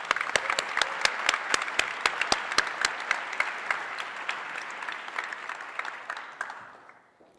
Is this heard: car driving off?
no